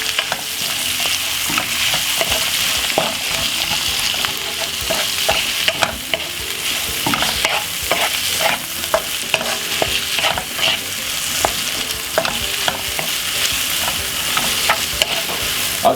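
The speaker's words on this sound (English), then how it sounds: "the best thing we need to do next now is to give it a lovely stir" Vegetables being stirred in a hot frying pan, a loud, close, continuous sizzle with frequent scraping and tapping of the utensil against the pan, without voices.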